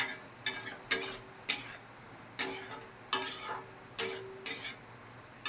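Mushrooms being sautéed with spices in a pan: a faint steady sizzle under about nine sharp scraping and clinking strokes of a utensil against the pan, spaced irregularly.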